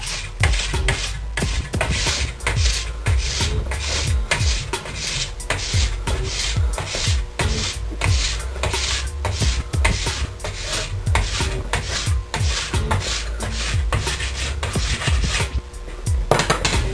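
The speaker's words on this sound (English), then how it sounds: "It's okay to manipulate the scraper a little bit to get those hard spots" A plastic scraper rasps wax off the base of a fat ski in repeated long strokes, a steady rhythmic scraping close by with no voices.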